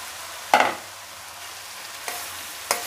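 Stirring rice while stir-frying veg fried rice at home: three sharp scraping strokes of a spoon in the pan, close and isolated against a quiet background.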